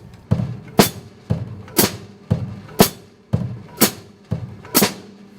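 A drum kit plays a basic rock beat without ride cymbal: regular bass drum thumps and sharp hits on two and four with hi-hats, six evenly spaced accents, close and alone.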